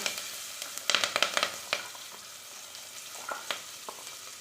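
Dried red chillies fry in hot oil with turmeric for a rice and dal dish, giving a steady sizzle broken by a burst of sharp crackles and pops early on, then scattered pops, close and alone.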